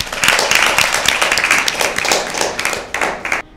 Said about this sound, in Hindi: दोनों टीम्स अपने लिए भरपूर तालियां बजाएं